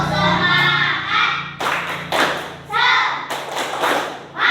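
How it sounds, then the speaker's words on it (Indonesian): A class of children claps along with a spirited classroom cheer; several bursts of group clapping and thumps come in rhythm, mixed with young voices chanting. "Tepuk. Tepuk semangat."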